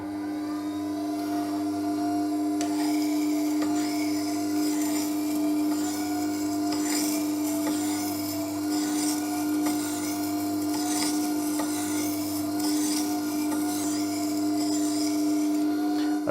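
A cambered straight-edge blade is worked back and forth on a sharpening stone, giving a steady, continuous scraping grind with faint rhythmic swells over a constant low hum, and no talking.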